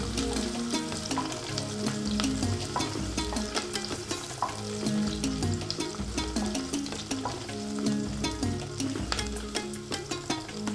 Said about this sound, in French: Voilà, l'oignon est en train de cuire. Il faut remuer de temps en temps pour éviter que ça colle